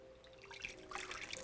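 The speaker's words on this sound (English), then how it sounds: "Next, we're going to add a 1/2 cup of warm water." Half a cup of warm water poured into packaged gelatin for a DIY bird wreath, a soft trickling splash building after a quiet start and running steadily to the end, fairly faint.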